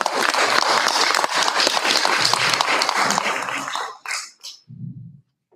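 A round of applause at a school board meeting, dense clapping from the room that lasts about four seconds, then trails off into a few last claps and a brief murmur.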